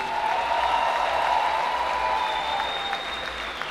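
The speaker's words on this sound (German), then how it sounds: "kleiner Applaus" Festival crowd applauding at a Mera Luna concert, dense clapping that stays steady and loud throughout, with a faint whistle or stage tone running beneath the crowd.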